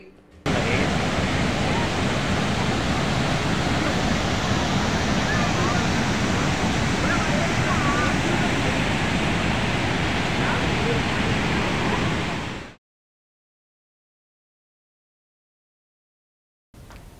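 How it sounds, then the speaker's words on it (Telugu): Bogatha waterfall in Telangana runs in flood after heavy rains, a loud steady roar of rushing water that cuts off abruptly before a brief return. "తెలంగాణ నయాగరా బొగతా జలపాతం ఉప్పొంగి ప్రమాద స్థాయిలో ప్రవహిస్తోంది"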